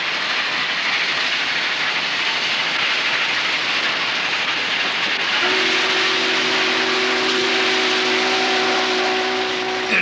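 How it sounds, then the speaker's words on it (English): N&W 611 steam locomotive running in 1983, a loud steady roar of steam and hiss throughout, joined midway by a sustained whistle tone that holds to the end, with no talking. "Well, running a steam engine's a full-time business."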